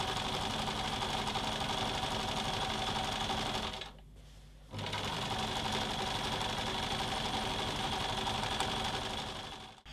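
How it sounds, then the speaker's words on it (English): A sewing machine stitches zigzag on fabric with a fast, close mechanical whirring chatter, pausing briefly before running again steadily until the end, with no talking. "You want to set your sewing machine to zigzag stitch."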